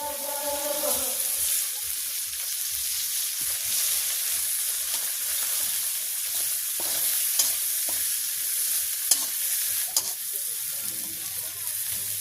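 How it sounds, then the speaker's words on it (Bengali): Red leafy greens frying in mustard oil with onion and chili, stirred in a pan: a bright, steady sizzle with scraping strokes and soft clatter, close and continuous, mostly without talk. "আমি এখন শাকটা মিশিয়ে দিচ্ছি।"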